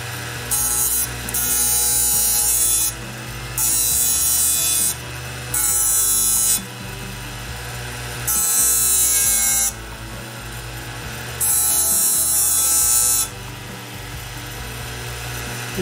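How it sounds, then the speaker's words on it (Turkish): A hard-disk motor fitted with sandpaper whines steadily while a drill bit is pressed against it for sharpening in repeated bursts, each lasting a second or two with brief pauses between. "Bir tane de matkap bileyim."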